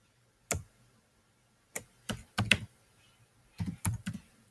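A username is typed on a computer keyboard, with a few sparse key clicks and then a short run of quick taps, close and clear in a quiet room.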